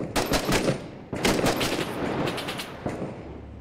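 Gunfire in the video game Six Days in Fallujah: two loud, close bursts of rapid automatic fire separated by a short pause, then fainter scattered shots fading into a rumbling tail.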